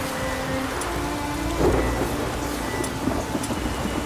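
Thunder and rain in the video game The Witcher 3, a steady downpour with low rumbling thunder rolling underneath, continuous and fairly loud with no talk.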